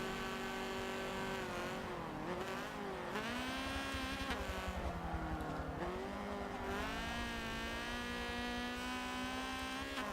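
A Honda race car's engine in Forza Motorsport 7 drones loudly and steadily, its pitch rising and falling through gear changes and revs, with faint tire squeal and no talking.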